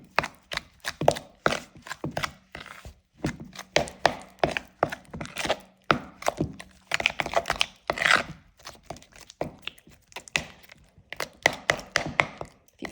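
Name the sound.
spoon mixing cream cheese with ranch dressing mix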